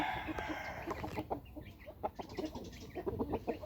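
Fighting cocks and chickens cluck and squawk at a cockfight, a busy scatter of short calls with faint crowd murmur in the background, fairly quiet overall.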